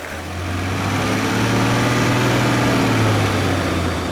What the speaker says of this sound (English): calibrate petrol and diesel variants of the same BMW 3-litre 6-cylinder engine